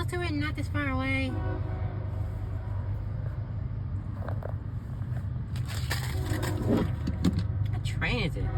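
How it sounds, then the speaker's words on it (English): A long freight train passes with a steady low rumble and grinding of wagons throughout, while people talk nearby. "Yep, it's a freight train. A long, very long See as a freight train pass by."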